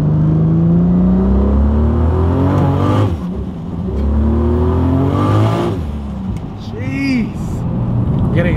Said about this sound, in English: we're going to be seeing a whole lot more of you driving this car